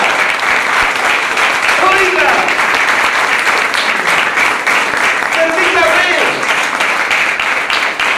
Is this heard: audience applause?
yes